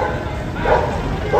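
A dog on a Rajasthan street where oxen are fighting gives a couple of short, sharp barks a moment apart, over steady crowd and street noise.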